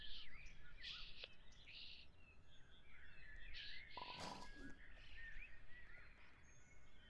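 Pigeon calls in the video game Pet Story: several short bird chirps and coos scattered over a steady background hum, with one brief louder burst in the middle.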